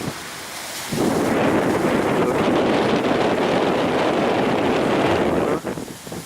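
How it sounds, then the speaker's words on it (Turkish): Strong, steady wind roaring and buffeting the microphone on Konyaaltı beach, Antalya, on a sunny, cold day, a loud continuous rush with a sudden gust onset near the start. "Rüzgar da acayip sallanıyoruz. Ayakta durmak zor."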